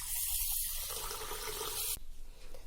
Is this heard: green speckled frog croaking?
no